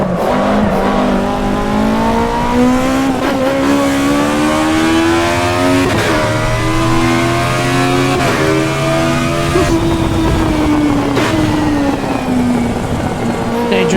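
Race car engine in Assetto Corsa Evo, loud and close, revving and shifting through rising and falling pitch sweeps with tire noise, under quiet talk.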